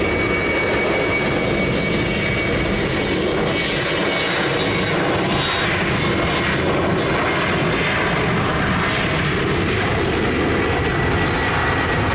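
A fixed-wing airliner lands at Lisbon Airport on runway 20, its jet engine roar steady, loud and broadband throughout with no voices.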